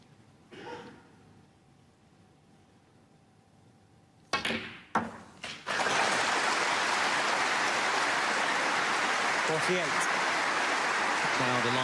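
A snooker crowd at the 2017 German Masters final breaks into loud, sustained applause after a quiet stretch, with a few sharp claps leading into it.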